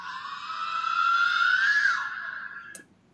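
A sustained high-pitched scream rises and holds for about two seconds, then fades out with a brief sharp knock near the end, loud and close.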